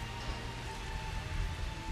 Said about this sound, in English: it's raining, I'm sorry